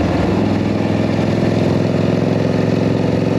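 A jockey shift, foot clutch motorcycle with no front brake runs steadily while being ridden, its engine loud and close with a continuous rumbling drone and no voices.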